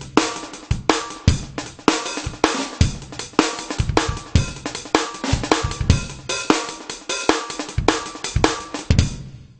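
A sampled drum kit in SampleTank 2, with kick and snare samples individually edited in zone edit mode, plays a steady punchy groove of kicks, snares and cymbals, loud and dry for several bars, ending cleanly with no talk.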